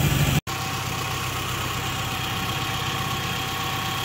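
A car engine idles steadily after a distributor dwell adjustment, a loud, close, even hum with a faint rhythmic knock, briefly cutting out at the start before settling into a continuous run.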